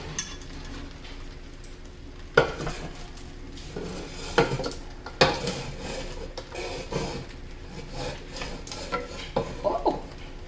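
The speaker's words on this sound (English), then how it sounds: "let's mix it all together" Ingredients stirred and mixed in a bowl, a spoon scraping and knocking against the sides in irregular clinks and thuds, fairly quiet and close.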